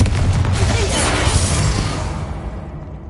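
A Confringo spell blast in a video game: a loud booming burst with a whooshing rush that swells and then fades away over a few seconds, with no voices heard.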